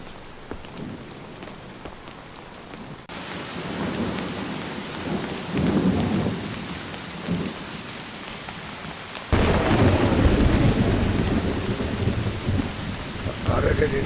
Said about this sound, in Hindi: कितनी तेज बारिश है यार